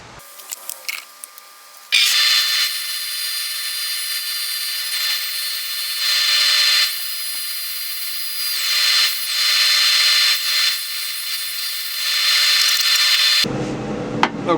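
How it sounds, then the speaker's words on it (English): Sanding a cherry wood vase on a lathe, a loud, steady whirring rub with a high whine that starts abruptly, runs for about eleven seconds with small surges, then cuts off. "I'll just sand this part out and then we'll be good."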